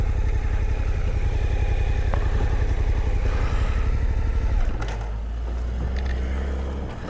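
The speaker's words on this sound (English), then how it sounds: "switch the bike off" A Suzuki DE motorcycle engine runs close by with a steady, throbbing mechanical rumble and some clatter, then drops to a lower idle before fading slightly.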